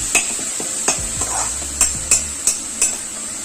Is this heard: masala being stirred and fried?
yes